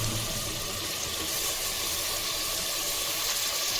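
Mutton tripe (boti) being washed under running water, a steady broadband rush of flowing water with faint splashing, continuous and fairly close for the whole stretch, with no talking.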